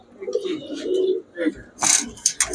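Giribaz pigeons coo in soft, rolling bursts, followed by sharper, brighter rustling or flapping noises near the end.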